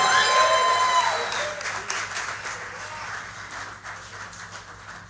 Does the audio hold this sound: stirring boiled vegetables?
no